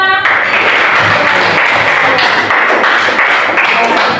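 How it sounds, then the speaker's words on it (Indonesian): Schoolchildren in a classroom applaud, a dense, steady burst of many hands clapping, loud and close throughout. "Tepuk tangan untuk semuanya."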